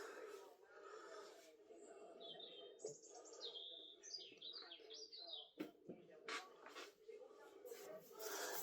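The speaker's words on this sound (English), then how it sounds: "The birds are singing, so it's getting light." Birds sing at dawn: several chirping and warbling calls, some rising and falling, fairly near, over a steady background hum with brief knocks.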